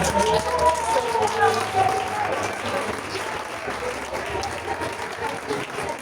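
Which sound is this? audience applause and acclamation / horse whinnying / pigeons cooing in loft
audience applause and acclamation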